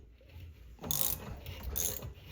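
Ratchet socket wrench turning a threading die on a Duke 850 Pro wolf trap modification, giving two short bursts of close clicking ratchet sounds over quiet background.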